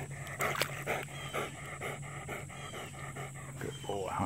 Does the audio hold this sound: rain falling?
no